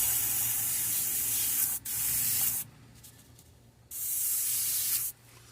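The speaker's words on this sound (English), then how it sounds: "we're going to spray this over the pearl white" Spray gun applying pearlized gold paint over pearl white on a largemouth bass fishing lure, giving two steady broadband hissing bursts of about a second each, separated by quieter gaps, with a low compressor hum throughout.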